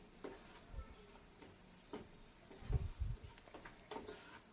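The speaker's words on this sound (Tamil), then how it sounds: "நல்லா லோ ஃப்ளேமில் வச்சு இந்த மாதிரி லைட்டாக வதக்கிக்கோங்க" Onion and masala sautéing in a pan on a low flame, with a soft sizzle running underneath and a few gentle scrapes and stirs of a spoon, quiet and close, with no talking.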